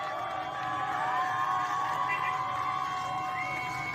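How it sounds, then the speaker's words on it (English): A crowd at a street gathering in Iran cheers and shouts steadily, a dense continuous roar of many voices with higher whoops rising above it throughout. "People are cheering, and they're saying death to dictator"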